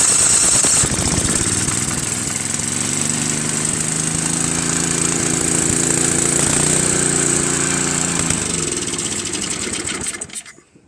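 Tecumseh engine on a Craftsman 522 snow blower running after being choked, a loud, close, rattling putter that wavers in pitch before cutting off abruptly near the end.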